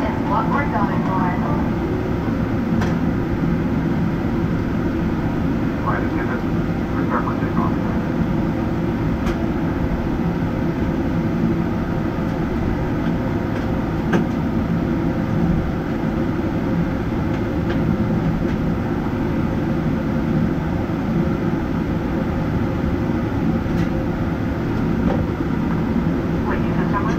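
An American Airlines Boeing 777-300ER takes off at London Heathrow, heard as a loud, continuous broadband engine roar that holds steady for the whole stretch.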